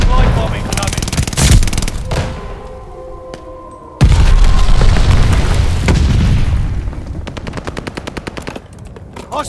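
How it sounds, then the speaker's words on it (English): Call of Duty: Vanguard combat with rapid machine-gun fire, booming explosions including a glide bomb blast, and dense bursts of gunfire, loud and continuous with game voice lines mixed in. "Enemy's got a glide bomb incoming."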